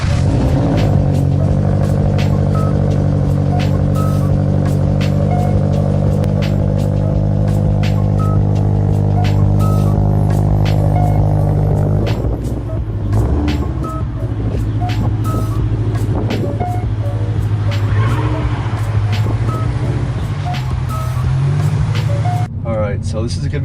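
A Subaru BRZ fitted with an Invidia N1 catback exhaust idles and rumbles steadily while reversing, a loud continuous low engine drone with a brief dip midway, close to the car, with no one talking.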